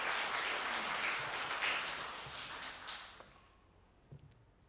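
A church congregation applauds during a Sunday morning service, a dense wash of clapping that holds steady, then fades out after about three seconds into a quiet room with a few faint knocks.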